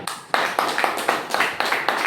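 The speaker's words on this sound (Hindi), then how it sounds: "सर के लिए जोरदार ताली।" A room of listeners at a leadership training session bursts into applause, a loud burst of separate hand claps with sharp rhythmic peaks over about two seconds.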